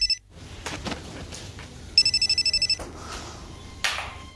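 A telephone rings in a rapid burst of electronic trills, fairly close and clear, with faint room noise before and after.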